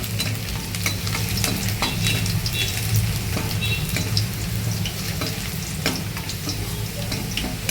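Fenugreek leaves frying in hot oil for a restaurant-style curry, with a dense continuous sizzle and frequent clattering strokes of a spatula stirring the pan, loud and close, no talking.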